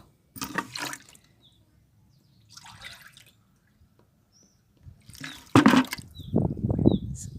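Water poured from a container onto a rose plant in a garden, several separate splashing bursts with pauses between, the last one longer and fuller.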